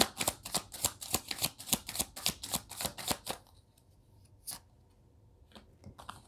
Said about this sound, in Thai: ขอเปิดไพ่อดีตรักของชาวราศีธนูนะคะ